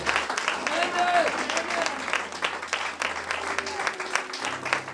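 A church congregation claps and cheers at a worship service, steady applause running throughout while a voice speaks and calls over the crowd.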